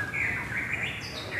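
A white-rumped shama (murai batu) songbird sings a continuous high, warbling chirp with rising whistled notes, fairly faint and steady throughout.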